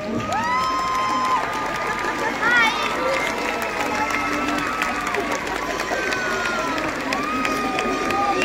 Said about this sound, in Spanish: pido un fuerte aplauso para el gobernador de este Capitolio, nuestro mayor influencer, Luis.